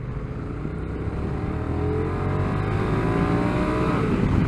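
A 2022 Honda NT1100 DCT motorcycle engine accelerates steadily on an open road, a continuous rising drone with gear-like pitch sweeps under wind rush, close and fairly loud throughout.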